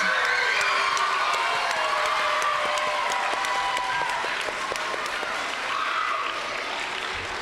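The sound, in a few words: audience applause at school awards ceremony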